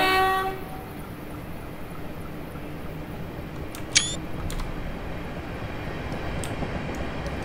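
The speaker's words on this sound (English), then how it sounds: "Train's coming." A train rolls past in the Train Simulator 2019 game on the Littlehampton to Portsmouth route, a faint steady rumble with a short high horn-like blast near the start and a sharp click midway, no talk.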